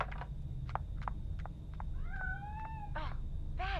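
A cat meows several times in the Friday the 13th video game's virtual cabin, rising and falling cries toward the end over a steady low background hum, close and clear with no talk.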